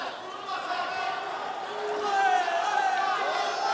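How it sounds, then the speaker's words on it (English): A crowd at an Abu Dhabi Warriors fight night swells in a busy, echoing arena, the noise rising steadily louder in the second half with voices and shouts mixed in. "Crowd's starting to pick up. It's getting loud in here."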